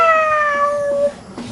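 A cat gives one drawn-out meow close by, its pitch sliding slowly downward before fading into quiet room noise with a faint thump.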